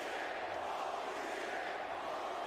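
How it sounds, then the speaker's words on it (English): A wrestling crowd chants and roars in a steady, distant wash of massed voices, faint and continuous with no single voice standing out. "And the crowd's still chanting."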